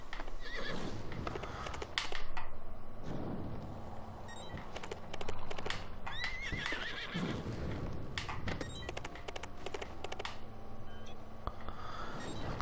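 A horse in the video game Trials Fusion whinnies loudly over a dense, busy soundtrack, with clip-clopping hooves and clatter throughout.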